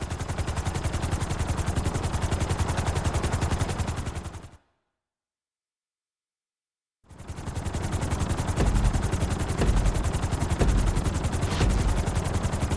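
A helicopter's rotor beats in a fast, steady, chopping rhythm during a flying-school lesson in the video game Grand Theft Auto V. The sound cuts out completely for a couple of seconds, then resumes just as loud.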